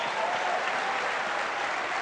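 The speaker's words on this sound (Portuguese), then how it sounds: "Quem crê, dê um forte aplauso." A church congregation gives loud, sustained applause, a thick, uniform wash of many hands clapping with no break from start to finish.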